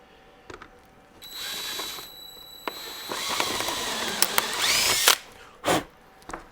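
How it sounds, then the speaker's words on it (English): A power drill whirs in short bursts with grinding, ratcheting noises as the bit bites in to clean out a hole, then stops and restarts briefly, fairly close. "I'm going to come in with a drill bit the same size as the hole here on the top and just clean that out"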